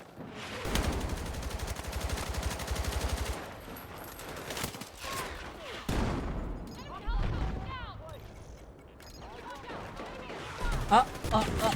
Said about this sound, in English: We're being bombarded now.